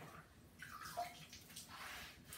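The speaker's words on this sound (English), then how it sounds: "I'm working on getting my brick just wet." Water being applied to fireplace brick in a house built in 1972, a faint, soft wet swishing and trickling with a couple of gentle splashy swells, quiet and alone.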